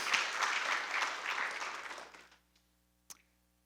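Church congregation applauding during a sermon, a dense burst of clapping that fades out after about two seconds, followed by quiet and a single faint clap.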